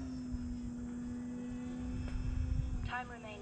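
An upgraded Arrows Husky RC model airplane climbs after takeoff, a steady thin electric motor whine holding pitch throughout, with a brief rising buzz near the end; background voices faintly present.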